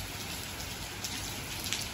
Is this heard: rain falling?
yes